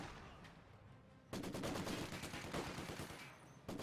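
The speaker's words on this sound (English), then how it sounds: "The MG will start suppressing the squad" An MG42 machine gun in the game Company of Heroes 2 rattles off a sustained burst of rapid gunfire with a dense, close, continuous chatter. Quieter battle noise comes before the burst, and a second short burst sounds at the end.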